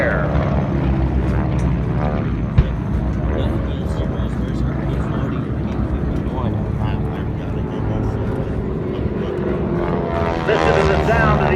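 A propeller aircraft engine drones loud and close at a Pearl Harbor attack demonstration, its throbbing rumble steady throughout while an announcer speaks over it.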